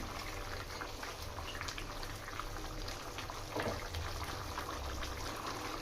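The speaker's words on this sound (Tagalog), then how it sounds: "hayaan nyo lang na kumulo at mag-absorb yung ating gata sa ating pork" Pork simmers in coconut milk for Bicol Express, a soft continuous bubbling and gentle burbling that stays low and even, with no talking.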